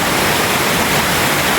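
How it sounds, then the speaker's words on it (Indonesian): Waterfall deep in a forest, a dense, steady roar of falling water filling the whole moment, loud and close with no voices. "Kita tiba di air terjun guys, di belakang sana."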